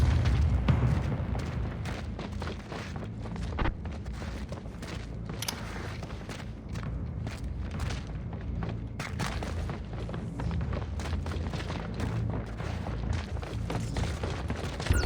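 Gunfire in the video game Splinter Cell Blacklist, a dense, continuous barrage of booming shots and thuds that barely lets up, loud and close throughout.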